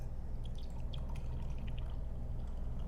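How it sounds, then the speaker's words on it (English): Beer is poured in one continuous fizzy, splashing trickle, close and fairly soft, over a low background rumble. "let me see if I can pour this without making a mess everywhere"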